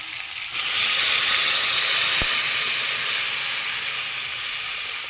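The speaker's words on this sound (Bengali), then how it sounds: "এবার আমি একটু জল দেব।" Water hits a hot pan of fried spices, black cumin, salt and turmeric for a potato and green banana hilsa fish curry, bursting into a loud, steady steam hiss that holds for several seconds, close, with no talking.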